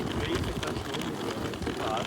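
Rain and gusting wind outdoors in Brittany, a loud, rough, continuous rush buffeting the microphone close up, with a voice speaking underneath.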